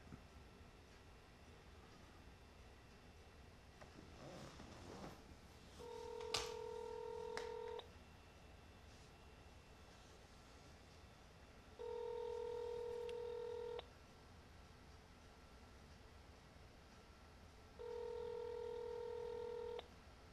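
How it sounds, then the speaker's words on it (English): A telephone dials out over speakerphone, sounding three separate bursts of steady DTMF tones about two seconds long, spaced roughly four seconds apart, with faint handling noises before the first burst and a quiet room between bursts. "I got his number dialed in, and so let's see here. Let's try to put him on speakerphone"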